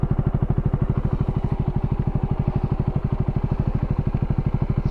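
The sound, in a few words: dirt bike engine riding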